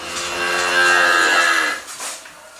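A single long, loud moo from a cow on a small dairy farm, close and sustained for over a second before trailing off, with no one talking.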